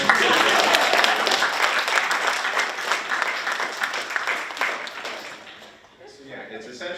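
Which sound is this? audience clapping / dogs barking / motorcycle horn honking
audience clapping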